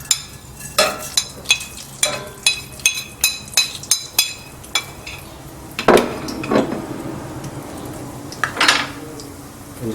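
Spices and salt are stirred into ghee in a metal pan with a utensil. About a dozen crisp, evenly spaced clinks and scrapes come first, then looser irregular scraping, all close and without talk.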